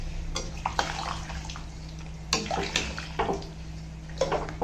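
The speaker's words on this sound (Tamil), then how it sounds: "நம்ம எடுத்து வச்சுருக்கிற அஞ்சு டம்ளர் தண்ணியே இதில் சேர்த்துருக்காங்க" Water splashes and pours steadily into a cooking pot for brinji rice, with a few clanks of metal and sloshing bursts, close up with no talking.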